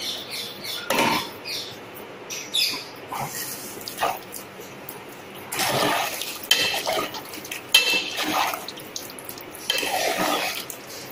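Spoon stirring sambar with vegetables in a cooking pot, irregular close scrapes and metallic clinks against the pot with wet, sloshing sounds in between.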